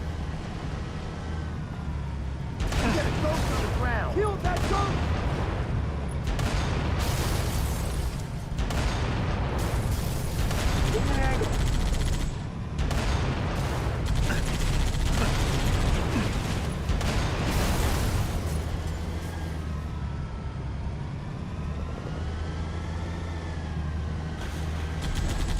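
Gunfire in Halo Reach aimed at two Ghost vehicles, loud rapid bursts and booming impacts with mechanical whirs and explosions in a busy battle, continuous throughout.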